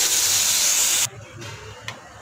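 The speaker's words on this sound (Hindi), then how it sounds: "अभी मैं इसमें पानी ऐड कर रही हूँ।" Water poured onto hot frying masala in a pan sends up a loud, broad steam hiss that cuts off abruptly after about a second, leaving faint kitchen noise and one small clink.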